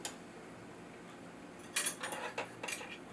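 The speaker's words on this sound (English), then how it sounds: "I'll give it another quick stir." A spoon stirs inside the glass chamber of a Queen Sense CM0601 syphon coffee maker, a quiet lull followed by a short run of close, light clinking and tapping strokes, with no voices.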